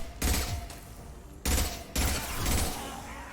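Bursts of rifle gunfire in the video game Mass Effect 2, three loud, dense volleys of rapid shots in quick succession, close and booming with heavy low-end rumble.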